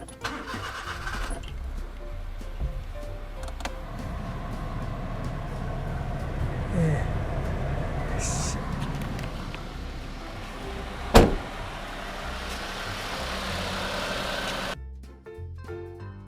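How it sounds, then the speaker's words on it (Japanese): A car engine cranks and starts, then idles with a steady low rumble during a car air-conditioning gas refill, with a sharp metallic clank partway through before the sound cuts off near the end. "じゃあエンジンねかけていきます。"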